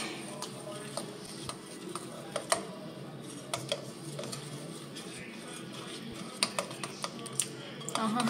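A spoon stirs coffee water into brownie batter in a bowl, making soft, irregular clicking and scraping taps, quiet and close.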